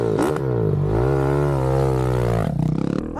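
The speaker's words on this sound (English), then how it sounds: "First time ripping the throttle on this modded" A modded 2024 KTM 690 SMC R single-cylinder motorcycle engine revving hard, loud and close, its pitch climbing and holding in a sustained roar before dropping off near the end.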